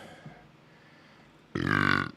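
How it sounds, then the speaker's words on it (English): A single loud, drawn-out burp rumbles for about half a second close to the microphone, following a quiet stretch of room tone. "that burp is not misplaced"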